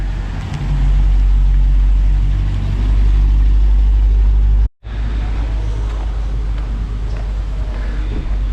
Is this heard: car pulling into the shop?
yes